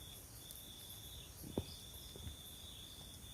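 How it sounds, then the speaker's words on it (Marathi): Crickets in a dense forest of tall old trees at dusk keep up a steady, faint high trill throughout, with a brief soft thump near the middle. "रातकिड्यांचा आवाज येतोय."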